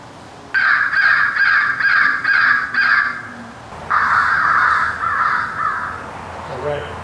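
Several crows caw loudly in an outdoor amphitheater, harsh repeated calls in two bursts of rapid caws, close and dominating, with a faint voice briefly at the end.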